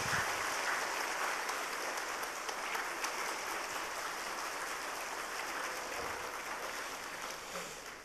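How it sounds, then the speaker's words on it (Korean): A church congregation at a Sunday service applauds with dense, sustained clapping that fills the room and tapers slightly near the end. Loud, reverberant and continuous, with no speech over it. "뜨거운 박수로 우리 축하하면서 격려하십시다."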